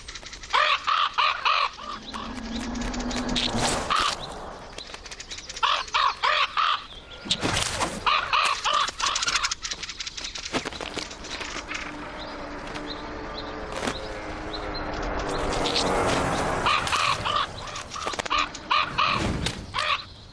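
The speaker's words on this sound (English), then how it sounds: "When a hungry raven eyes their chicks, fieldfares fight dirty." A raven calls with harsh, repeated caws while fieldfares mob it near their nest of chicks, loud close chattering alarm calls and bursts of wing flapping mixing together outdoors.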